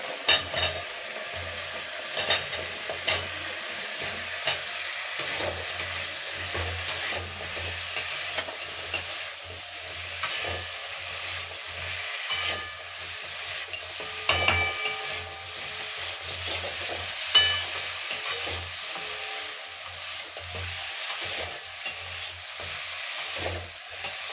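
Chicken pieces for chicken 65 fry in a pan with a steady, close hiss, broken by occasional clicks and stirring scrapes over a low hum.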